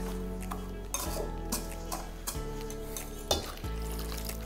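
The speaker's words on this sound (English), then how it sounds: "add in 1 teaspoon of vanilla and a cup of milk and then mix" Batter being stirred in a bowl after vanilla and milk go in, with utensil scraping and clinking against the dish in irregular strokes, close and moderately loud, no voices.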